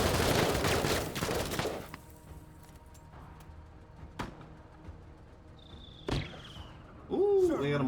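A dense burst of rapid gunfire opens a strafing run in the tactics game Menace, then gives way to scattered single shots and a faint electronic tone, with game voices speaking over it.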